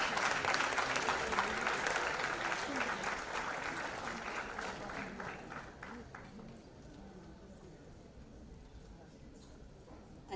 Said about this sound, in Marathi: यांच्यासाठी खऱ्या अर्थाने जोरदार टाळ्या होते